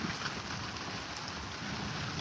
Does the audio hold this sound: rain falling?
yes